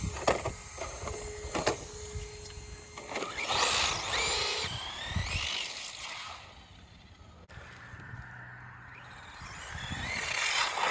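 Vintage Losi LXT RC truck with an XTeam 5400 kv brushless motor on a 2S battery, high electric whines rising and falling in quick bursts as it accelerates, fading to a more distant hum before whirring up again.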